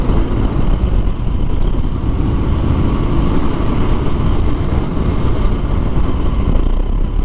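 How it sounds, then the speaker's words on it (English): A 2019 Triumph Scrambler 1200 XE cruises in sixth gear at about 55 mph on a bumpy road, its engine drone mixed with heavy wind rush and road roar, loud and continuous throughout. "So driving on this road right now, as you can hear, it's a little bit bumpy, and this bike seems to be handling it just fine."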